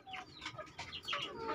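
Free-range native village chickens cluck and squawk close by in a farm plot, a busy overlapping run of short calls from several birds.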